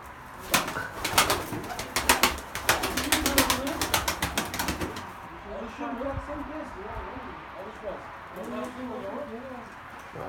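Pigeons coo repeatedly in a loft of tumbler pigeons, soft throaty calls rising and falling near the listener, while a burst of rapid wing flapping sounds early on and someone talks over it.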